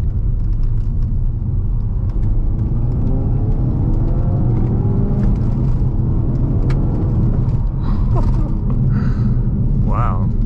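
A used Ford Focus RS engine drones steadily from inside the car, rising and falling in pitch as it downshifts through a corner, a constant near rumble with faint rising whine.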